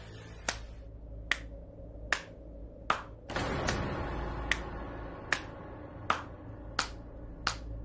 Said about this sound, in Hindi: मैंने ऐसी तालियां बजाई